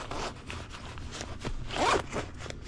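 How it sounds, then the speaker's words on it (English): A zipper fly on fishing bibs is pulled in a few quick rasping strokes, close up, with a longer, louder zip near the end. "Here, this is the fly, the zipper fly."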